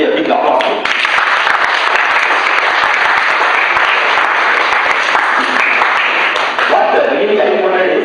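Sustained applause from a felicitation audience, a dense, loud and steady wash of many hands clapping that continues without a break, with speech faintly mixed in.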